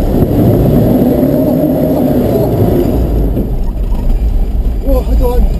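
A Land Rover Defender 4x4 works off-road through Sluie Woods in North East Scotland, its engine a loud, low, close rumble that eases off partway through, with people talking over it.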